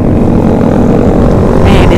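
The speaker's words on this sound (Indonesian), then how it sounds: "Motor paling berisik biasa" Loud engine drone, broad and continuous, from motorcycles on a Sunday morning group ride in Purbalingga, steady throughout with a brief brighter rise near the end, no talk.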